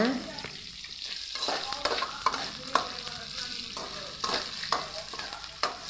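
Garlic and lentils sautéing in a pan, a continuous close sizzle broken by frequent scraping stirs of a spatula against the pan.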